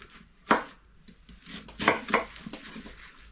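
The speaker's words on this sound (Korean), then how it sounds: "이건 단단해서 아주 쉽게 안 잘립니다." A knife chopping a hard wild mountain herb on a cutting board, giving a few sharp, close knocks spaced irregularly over a quiet background.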